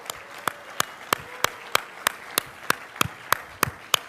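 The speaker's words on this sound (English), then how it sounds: "I think that's worth a little applause there" Slow, evenly spaced claps ring out one at a time, about a dozen in a steady rhythm, fairly close, like a single person clapping.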